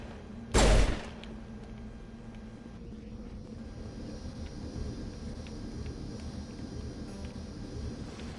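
A single sharp, loud gunshot in the sci-fi game Mass Effect Legendary Edition rings out near the start, then fades into a steady low ambient hum with no further shots.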